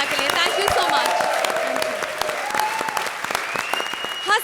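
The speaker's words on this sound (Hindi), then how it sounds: "जोरदार तालियां हो जाए राजीव और सुगंधा के लिए" Loud, dense applause from a comedy show studio audience, with a steady mix of claps and crowd cheering that carries on for several seconds while a tonal music cue plays along.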